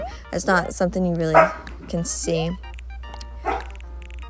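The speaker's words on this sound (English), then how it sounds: "Sorry about my dogs again. They're playing." Dogs bark while playing in a home, with several close yips and barks in quick bursts mixed under a person talking over them.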